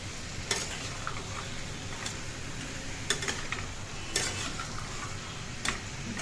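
Cabbage with green peas and spices being stirred in a pan, heard as a quiet, continuous sizzle with periodic sharp taps of a spatula on the pan, about one every second, and no talking.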